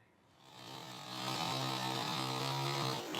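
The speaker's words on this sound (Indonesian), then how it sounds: "seluruh perabotan rumah tangga juga ikut dibelah dengan menggunakan gergaji mesin" A chainsaw revs up and runs at a steady high roar while a husband in Grobogan, Central Java, cuts through his house and its household furniture. The sound is loud and close, with its pitch rising and then holding.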